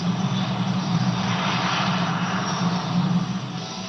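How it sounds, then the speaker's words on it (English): A loud airplane roaring steadily on takeoff, its jet engine noise a thick, continuous rush that barely wavers from start to finish, with nothing else heard. "A plane taking off?"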